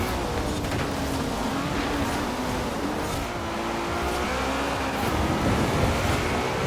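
A roughly 950-horsepower, 3,300-pound car on road tyres in Forza Horizon, its engine droning loud and steady at high revs, with a slight swell near the end.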